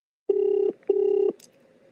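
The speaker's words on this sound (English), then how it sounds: "I love that Australian ringtone." Over a speakerphone, an Australian ringback tone sounds as two short, loud, steady buzzing pulses close together, followed by a faint click and quiet line noise.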